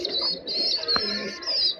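Soft cooing of native desi pigeons and young pigeons, close by, with a steady high chirping trill running alongside in a short continuous stretch.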